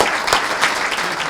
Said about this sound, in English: how about a round of applause for these AmeriCorps volunteers?